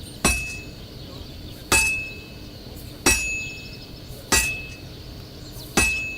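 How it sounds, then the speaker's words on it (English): Five evenly spaced metallic hammer strikes ring out on an anvil as a sword is forged in Kingdom Come Deliverance 2, each a sharp bright clang with a short ringing tail, loud and close. "hitting an anvil with a hammer"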